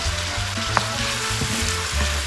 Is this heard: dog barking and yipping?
no